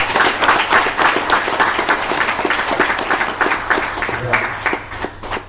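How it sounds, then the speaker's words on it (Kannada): An audience at a prison department promotional training session claps in thanks, producing dense, loud, sustained applause that runs steadily throughout and tapers slightly at the end. "ಎಲ್ಲರೂ ಅತ್ಯಂತ ಹುರುಪಿನಿಂದ ಚಪ್ಪಾಳೆ ಮೂಲಕ ಧನ್ಯವಾದಗಳು"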